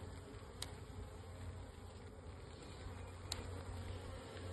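Honey bees from a spring package hum steadily, a continuous close, even drone of many wings with a couple of brief sharp clicks, no voices.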